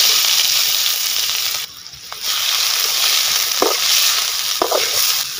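Onions frying in two tablespoons of coconut oil, a steady close sizzle with a short dip in the middle and a few sharp scrapes of stirring.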